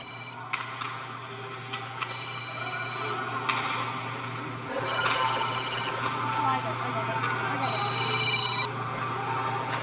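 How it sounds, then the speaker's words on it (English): A mobile phone rings up in an ice hockey arena during a game, repeated electronic tones sounding over crowd noise and ongoing commentary. "Hey, Percy, I got your phone up here."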